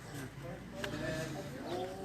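Pigeons that have just settled on the ground coo softly in short, soft bursts, close by in an open setting, with a person talking over them.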